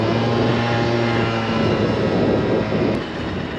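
The engine of a Honda Elite scooter, just revived after sitting unused for years, runs loud and close, a steady droning hum with a constant pitch that eases slightly near the end.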